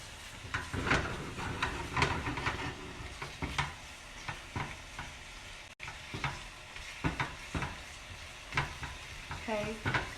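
Shrimp sizzle and fry in a pan on slightly raised heat, with a continuous crackle, frequent utensil clinks and stirring scrapes up close, no talking.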